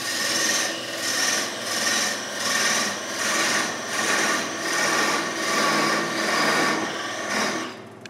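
Rhythmic rasping of a tool beveling and chipping wood on a spinning top being turned, a steady scraping with regular pulses about every half second, moderately close.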